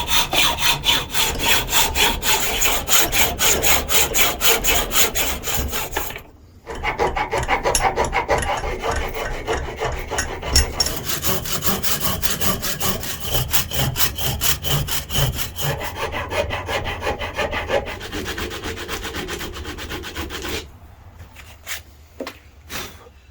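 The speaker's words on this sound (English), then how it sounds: "I got to do a lot of filing, cutting, sawing, that sort of thing." A wooden handle for a puukko knife built on an Opinel No. 9 blade is sawn and filed in quick, rhythmic back-and-forth strokes, close and loud, with a few brief pauses and softer rasping near the end.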